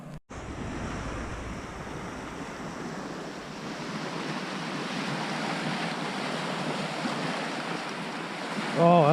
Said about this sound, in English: Looks like he's putting out some big waves.